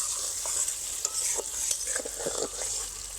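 Mango pickle with sugar is stirred in a hot pan for a sweet, sour and spicy aam achar. Soft sizzling runs under repeated scraping strokes of a spoon, close up and without speech.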